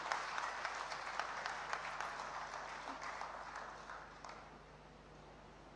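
An audience at a formal ceremony with a governor present applauds a bereaved father, producing a dense, sustained patter of many hands clapping that is faint and distant and tapers off toward the end.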